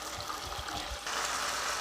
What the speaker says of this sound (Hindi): थोड़ा सा पानी में डाल रही हूँ इसको ताकि ये लगे ना नीचे से।